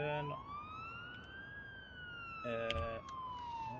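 A wailing ambulance siren from the paramedic simulator game Ambulance Life, rising and falling steadily over engine noise, with a brief burst of electronic tones partway through.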